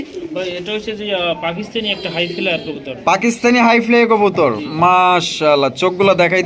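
At a pigeon farm, pigeons coo close by while people talk over the birds almost the whole time.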